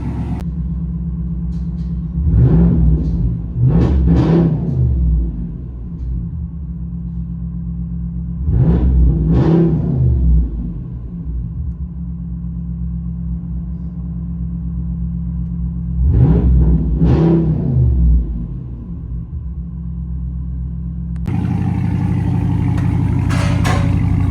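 Heard from inside the cab of a RAM with a 6.4L HEMI V8 and a loud aftermarket exhaust on a freezing day: a steady deep rumble, broken by three loud rev bursts that rise and fall, then a rougher, louder drone at the end.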